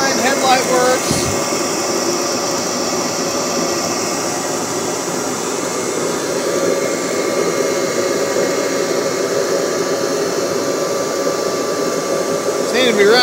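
A 1984 Kirby Heritage 2 vacuum cleaner running steadily, a loud continuous motor whine and rushing air drone close by, with only a brief thump near the start.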